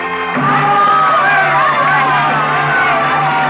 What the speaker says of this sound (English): the full, frenzied applause of an audience for you alone